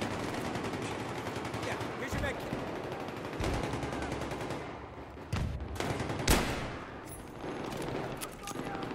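Sustained machine-gun fire and rapid bursts of gunshots in a video game team deathmatch, loud and continuous with a few sharper cracks, while a voice talks over the shooting.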